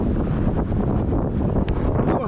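Strong wind buffets the microphone aboard a sailboat heading out to sea from the port of Saint-Mandrier, a steady loud roar with a faint wash of water beneath it.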